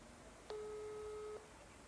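A faint electronic ringing tone from a phone call to a scammer impersonating the Cilegon district head sounds once as a single steady beep lasting under a second, set against quiet background hiss.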